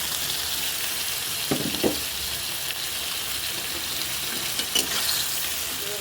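Fish marinated in salt and turmeric frying with chillies and spices in a pan, a steady dense sizzle with a few soft stirring knocks, close by and without speech.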